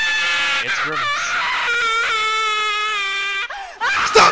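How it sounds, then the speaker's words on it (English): Person screaming in a high, wavering, drawn-out wail with breaks and sobbing inflections, loud and close, ending in a jagged cry. "Stop screaming!"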